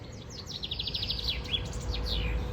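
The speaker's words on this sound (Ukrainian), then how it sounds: "Ви чуєте, як тут співають пташки?" Several small birds chirp and trill in quick repeated phrases outdoors in Germany, bright and fairly close over a low background rumble.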